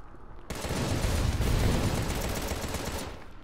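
Sustained rapid gunfire in the video game Contra: Rogue Corps erupts after a short quiet start, a dense loud burst of shots and booms lasting about three seconds before trailing off.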